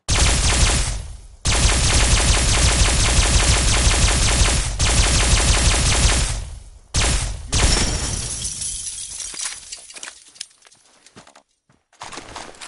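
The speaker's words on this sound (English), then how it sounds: "Opening fire." Sustained automatic gunfire from Fallout 4 rattles loudly in long bursts, broken by short pauses, then thins into scattered single shots and clatter toward the end.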